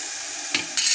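Mustard seeds and cumin fry in hot oil with a bright, hissing sizzle, punctuated by two quick crackling bursts in a brief close-up moment.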